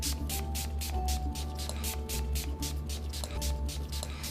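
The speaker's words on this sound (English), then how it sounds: "start with your mist and generously spray your entire face and neck" Repeated short hissing bursts of a facial mist spray bottle, about a dozen quick pumps in a steady rhythm, close up against a low constant hum.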